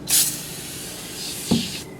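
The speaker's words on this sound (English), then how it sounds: "So we'll take some and we can just spray the inside like that." Two quick hissing bursts of aerosol degreaser spray, close and fairly loud, with a short pause between them.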